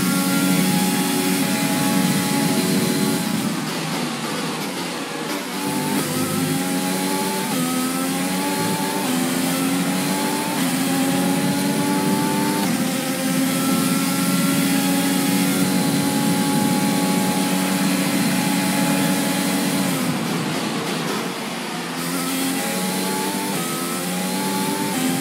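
A Formula 1 car engine in the F1 2021 racing game, loud and continuous, its high-pitched whine rising and falling through gear changes with brief dips as it lifts off, running without a break.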